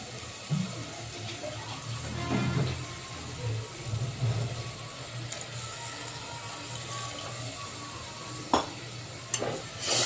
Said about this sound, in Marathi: आता आपल्या फॅमिलीनुसार पाणी टाकायचं यामध्ये आणि शिजायसाठी पण पाणी लागते थोडं